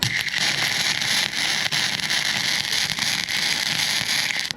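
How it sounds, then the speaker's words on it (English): Welding on a Viking yacht under a wrapped fire blanket during a rebuild, giving a steady, loud crackling hiss that runs without a break. "Let's get this bad boy welded."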